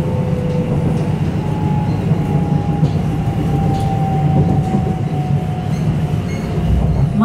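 A TfL Rail train travels between Paddington and Ealing Broadway, heard from inside as a loud, steady rolling rumble. A thin wheel squeal slowly glides downward across the stretch.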